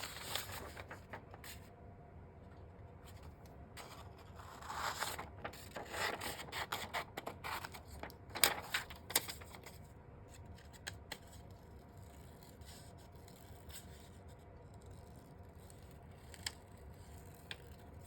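Scissors snipping out a paper stamp image: soft, quiet cutting and rustling with irregular snips and paper handling, faint and close, with no talking.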